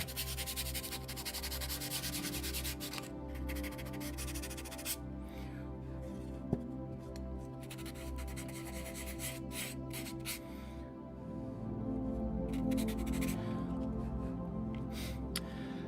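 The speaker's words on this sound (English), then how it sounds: "let's get this sanded a bit too" Hand sanding of a small whittled wood piece being finished as a woodcraft item, heard as steady, close rasping strokes in a quick back-and-forth rhythm over a low background hum, growing slightly louder near the end, with no talking.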